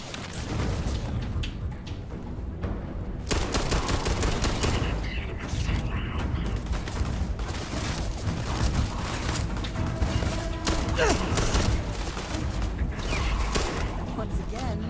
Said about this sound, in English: Meet Sir Livingston's pistol.